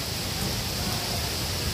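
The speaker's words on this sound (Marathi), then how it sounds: "एवढा जोराचा पाऊस पडत आहे" Heavy rain pours down onto a flooded road during a thunderstorm, a steady, dense wash of noise with no pauses, loud and close throughout.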